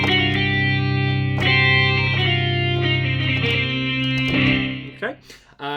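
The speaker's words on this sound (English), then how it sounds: "Whereas an electric guitar can have all that crunchy distortion on it." Electric guitar with heavy, crunchy distortion plays thick sustained rock chords with several changes, loud and continuous, then cuts off in a few choppy bursts at the end.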